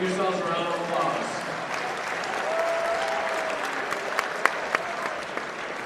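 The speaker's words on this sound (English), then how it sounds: "Give yourselves a round of applause." A crowd of students at a high school assembly in Wilton gives a steady, sustained round of applause that holds for several seconds, with a few sharper claps near the end.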